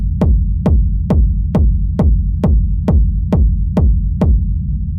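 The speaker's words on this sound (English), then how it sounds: "these are basically mixer presets that you can use to create a big techno rumble kick." A techno rumble kick processed through a rack of mixer effects thumps in a steady four-on-the-floor pulse, about eleven loud hits whose booming low tails blur together into a continuous rumble.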